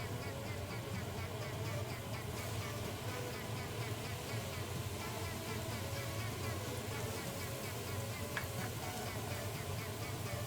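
Rosettes deep-frying in hot oil at about 150 degrees, a dense, steady sizzling hiss with faint bubbling that runs throughout at low volume.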